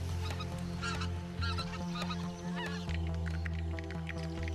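Geese resting on a small river in autumn honk repeatedly in overlapping calls, fairly close and clear above a low steady background hum.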